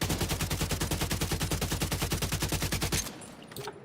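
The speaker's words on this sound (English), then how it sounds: "Let me try the AK." An AK rifle in The Division 2 fires a long, evenly paced automatic burst of loud, close shots for about three seconds, then stops, leaving a few fainter distant sounds and no talking.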